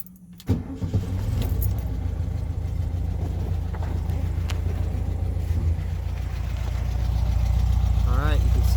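A 1971 VW Super Beetle engine fitted with small pea shooter exhausts starts with a sharp catch and settles into a steady, fairly quiet low idle that rumbles continuously, close by, with faint metallic jingles.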